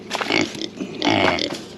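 Hungry pigs grunt and snort loudly up close at feeding time, in two bursts of rough, overlapping grunts with a short lull between them; no talking.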